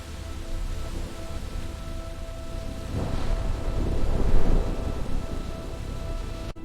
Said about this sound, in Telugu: ఒక రాత్రి భారీ వర్షం మొదలైంది